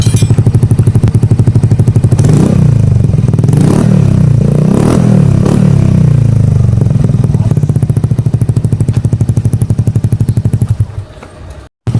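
A Yamaha Mio Gravis 125 scooter runs with its Akrapovic Tri-Oval exhaust silencer removed, giving a loud, raw, steady drone close up with several swelling revs before it cuts off near the end, no talking.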